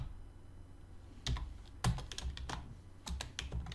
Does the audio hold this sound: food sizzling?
no